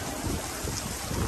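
Steady heavy rain pours down during a typhoon at a construction site, a dense unbroken hiss with gusty wind rumble, close and loud throughout.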